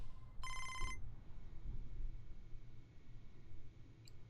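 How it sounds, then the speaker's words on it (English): A telephone rings once in the baseball video game MLB The Show 25, a brief bright trilling electronic bell over a quiet low background hum, with a faint blip near the end. "Oh, we got a phone call."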